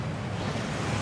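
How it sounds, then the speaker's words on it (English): A waterfall at Gringotts in the video game Hogwarts Legacy pours in a continuous loud rushing roar, close and steady with no other sounds. "That waterfall washes away all enchantments."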